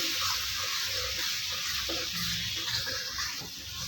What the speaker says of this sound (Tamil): தக்காளியோட பச்சை வாசனை வர வரைக்கும் நல்லா வதக்கி விட்டுருக்குங்க